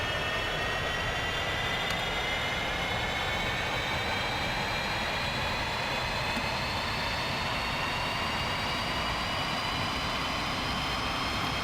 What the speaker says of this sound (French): Là, on a mis le moteur gauche en route.